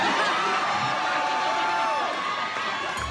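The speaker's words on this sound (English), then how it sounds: "And the crowd just goes crazy." A large crowd cheers and shouts wildly in a sustained, dense roar with excited whoops rising through it, loud and continuous throughout.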